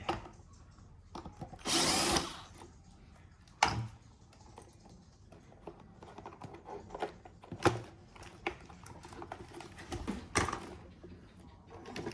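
Power drill backing a screw out of an electric fan: a short, whirring burst of the drill near the start, followed by scattered clicks and handling taps of parts and tools, fairly quiet and close.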